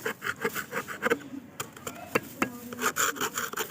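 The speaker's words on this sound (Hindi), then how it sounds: "तो ज़्यादा नहीं, हल्का हल्का सा इसको हम खुरच लेंगे, ताकि जो मिट्टी है वो अच्छे से इसमें जम जाए।" A small clay stove is scraped lightly by hand, giving close, uneven rasping strokes in quick irregular bursts with short pauses between them.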